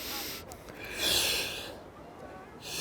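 A deep breath in taken between sets of a back-strengthening exercise, a breathy airy rush that swells near the mic around the middle and fades, with no talking over it.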